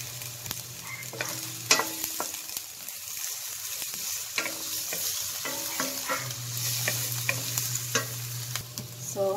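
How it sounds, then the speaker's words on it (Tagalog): Garlic sizzles and is stirred in a pan, steady frying hiss with frequent sharp scrapes and clinks of a utensil against the metal and a low hum running underneath. "Then, ini-mix po natin yung ating garlic."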